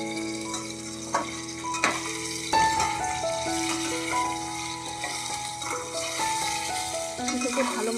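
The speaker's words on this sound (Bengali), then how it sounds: "তেল গরম হয়ে গেছে বন্ধুরা, এবার দিয়ে দেবো। এটাকে ভালো মতন ভেজে নেব।" Eggplant slices frying in hot oil for a spiced brinjal dish, a steady close sizzle broken by soft clinks and shifts as pieces settle, with faint music-like tones running underneath and no talking.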